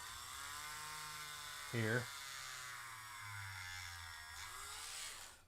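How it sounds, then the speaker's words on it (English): A power drill bores into the chest of a McFarlane action figure, a steady close buzzing whine running through most of the clip, with a brief louder burst near two seconds and someone speaking over it. "we'll drill into the chest"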